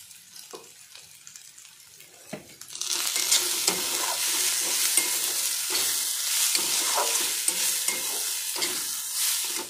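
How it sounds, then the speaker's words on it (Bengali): Dal sizzles and is stirred in a pressure cooker with dried red chilies, quieter scraping at first, then a loud continuous frying hiss with repeated stirring scrapes and taps, no voices. "ডালটা মোটামুটি আমার ভাজা হয়ে গেছে, একদম কালার চেঞ্জ হয়ে গেছে।"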